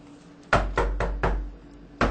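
Four firm knocks on a door by a court messenger in a Filipino radio drama, close and loud with an uneven rhythm, then a fifth rap after a short pause, with no voices.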